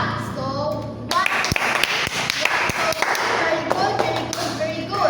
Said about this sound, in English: let's give them a very good clap